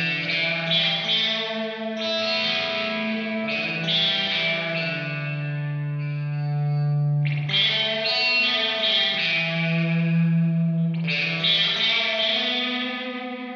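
A guitar played through a Kemper Profiler reverb with distortion and dwell turned up rings out in sustained, harsh chords that swell and wash into long reverberant tails between strikes.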